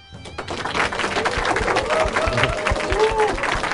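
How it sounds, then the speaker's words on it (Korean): A live audience in Goyang, including residents and children, claps to open a public broadcast, the applause building quickly from quiet into a dense, lively patter mixed with crowd murmur and a few cheers. "여러분들의 큰 박수 소리와 함께 시작하도록 하겠습니다"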